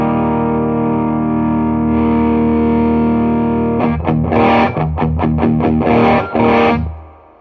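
Electric guitar on the bridge pickup through Klon-style overdrive pedals (J Rockett Archer vs Mosky Golden Horse) with gain cranked: a loud, sustained distorted chord, then choppy rhythmic strummed bursts before ringing out, with no voices.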